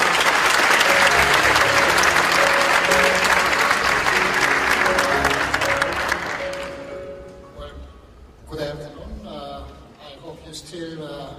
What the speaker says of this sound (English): Ladies and gentlemen, please give Professor Jo a big round of applause.